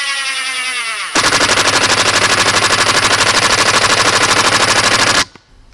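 RIDGID Octane impact driver running on speed one, a loud rapid hammering rattle that starts abruptly after a second of motor whine, holds steady for about four seconds, then cuts off.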